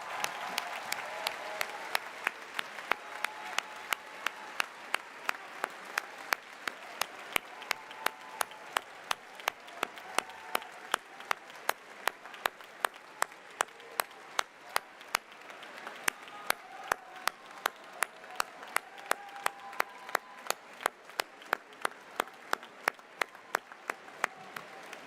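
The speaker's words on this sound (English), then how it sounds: "Turn to your loved ones who have supported, have encouraged you throughout the journey, and applaud them as a token of appreciation" Large graduation commencement audience applauding their loved ones, sustained dense applause for the whole stretch with distinct sharp claps standing out, loud and even, with faint voices underneath.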